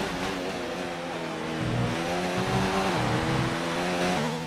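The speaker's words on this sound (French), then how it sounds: "Et 16 voitures encore dans ce Grand Prix." Formula 1 race cars in the racing game F1 2019, several engines droning loudly and steadily together with shifting pitch as they run through a Grand Prix, no voices over them.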